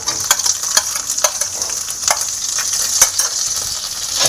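Chopped onion sizzling in a pan of oil, a close bright hiss punctuated by repeated sharp scrapes and taps of a spatula stirring every half second or so.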